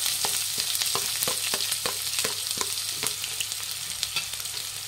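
Sliced onions fry in a pan with mustard seeds, a piece of cinnamon and curry leaves, giving a steady close sizzle broken by quick crackles and stirring scrapes, with no voices.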